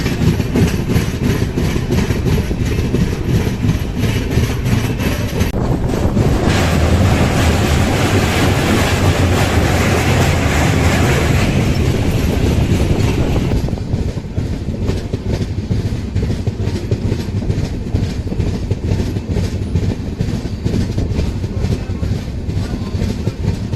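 The Tamralipta Express AC train runs between Howrah and Digha with a constant loud rumble and rhythmic clickety-clack of wheels on rails, heard from inside the carriage, with shifting background noise partway through.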